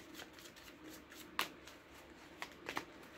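Tarot cards are shuffled close up in a quiet room: soft riffling with a few sharper flicks and slaps near the end.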